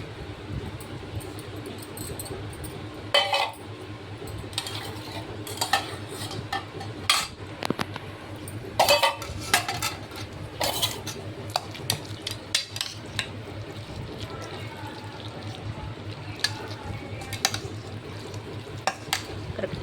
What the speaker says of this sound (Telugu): ఇది తురిమిన ఆవకాయ అండి సో ఇందులో వేసేసుకొని కలిపిద్దాం